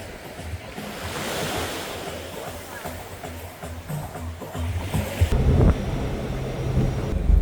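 Surf rolls onto a private beach in the Bahamas, a steady broadband wash with wind buffeting the microphone and a louder crash near the end, while voices talk faintly underneath.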